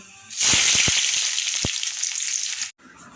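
Panch phoron spices hit hot frying oil with a loud, steady sizzle, a few sharp pops at the start, then cut off abruptly.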